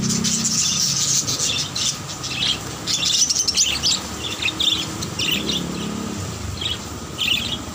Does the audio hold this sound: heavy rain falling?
no